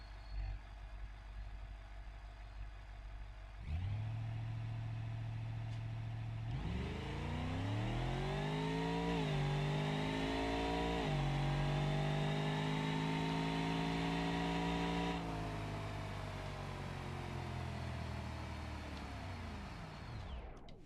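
A racing video game car engine idling low, then revving hard with nitrous through several rising gear pulls, a sustained loud synthetic roar that eases off near the end, with no talking.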